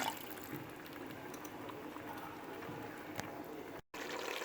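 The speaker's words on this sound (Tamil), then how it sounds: "நான் 1 கிளாஸ் வந்து தண்ணி ஊற்றுறேன்" Water from a glass poured into chicken biryani masala cooking in a pan, a steady faint liquid hiss and sizzle with scattered small drips, alone, cut by a brief gap near the end.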